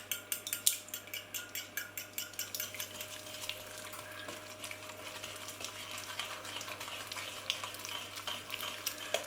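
Eggs are beaten by hand into a creamed cake mixture in a bowl, a quick rhythmic run of soft tapping whisk strokes that settles into a quieter stirring texture.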